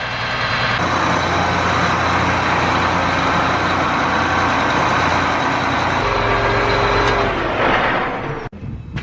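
A farm vehicle engine runs loud and close, a steady rumbling idle with a shift in tone partway through, then a sharp drop near the end before resuming.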